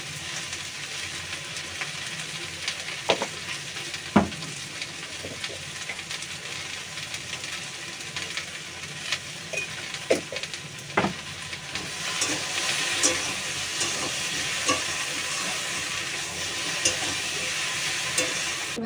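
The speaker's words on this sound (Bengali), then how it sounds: "এদিকে ভেন্ডি ভাজা আমি বসিয়ে দিয়েছি" Okra sizzles steadily in hot oil for a long stretch, with occasional scraping stirs and clinks breaking through the constant hiss.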